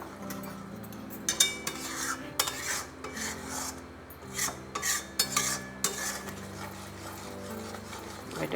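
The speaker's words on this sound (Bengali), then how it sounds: "এবার এটাকে আর একটু নাড়তে হবে" Egg korma masala with yogurt is stirred in a pan over medium-low heat, rasping scrapes and spoon clinks coming in bursts over a faint sizzle, close and without speech.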